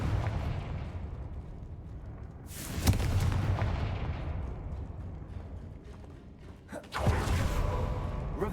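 A Confringo blasting curse goes off in Hogwarts Legacy: deep booming explosions, two sharp blasts with rumbling tails over continuous low battle noise, loud and close.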